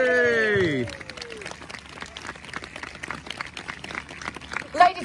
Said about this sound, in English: And a big round of applause, ladies and gentlemen, for your compere, Miss Kate Fagan.